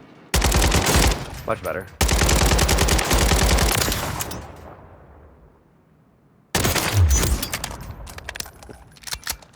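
Video game gunfire from Warzone 3: long, loud bursts of rapid automatic fire, a pause as the sound trails off, then another sustained burst, with someone briefly speaking.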